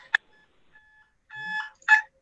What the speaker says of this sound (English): Sorry, that was my timer.